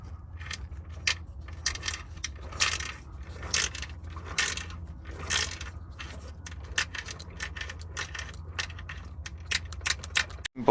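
A broken transfer case on a Jeep Grand Cherokee WJ, damaged off road, makes a rapid, irregular metallic clattering and grinding over a steady low drivetrain rumble, continuous and moderately loud for several seconds.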